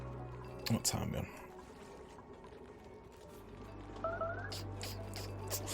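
Water pours steadily into a storage tank in the video game Oxygen Not Included. A soft, continuous liquid flow runs under game ambience, with a few brief clicks and tones.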